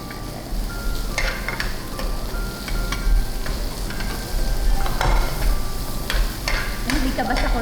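Meat and vegetables for Korean japchae are stirred in a hot sizzling pan, with a constant frying hiss and irregular scraping clicks of a utensil against the pan, close up.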